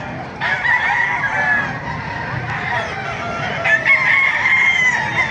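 A rooster crows loudly amid steady clucking from several chickens close by at a chicken market in Baliuag, Bulacan, with faint voices in the background.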